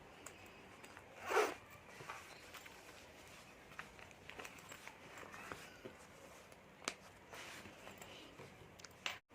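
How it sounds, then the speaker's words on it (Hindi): Zipper on a handmade multi-pocket card holder purse, one quick loud zip pull near the start followed by faint rustling and handling noises, no talking. "यहाँ भी एक पॉकेट रहेगा जिप वाला"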